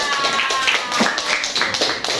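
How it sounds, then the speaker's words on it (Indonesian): Students in an elementary classroom clap for the fourth group, a dense patter of many hands lasting a couple of seconds, close and steady, with some voices mixed in. "Tepuk tangan dulu untuk kelompok keempat"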